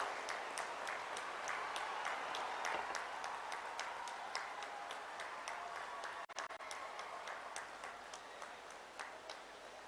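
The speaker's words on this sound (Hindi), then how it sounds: "आप सबकी जोरदार तालियों के साथ" A crowd at the foundation-stone ceremony for the Mahayogi Guru Gorakhnath AYUSH University claps for the President, faint and distant, with individual claps ticking through a steady wash that thins slightly toward the end.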